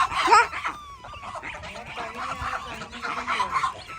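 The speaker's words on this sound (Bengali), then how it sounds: "এগুলো হচ্ছে রাজহাঁস বড়গুলা ছোটগুলা" Geese honking and cackling nearby, a few loud calls then softer chatter among several birds.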